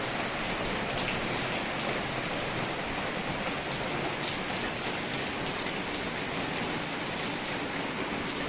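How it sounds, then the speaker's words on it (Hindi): Heavy rain falls in a dense, steady roar that holds evenly throughout without a break. "बहुत तेज़ वाली बारिश हो रही है।"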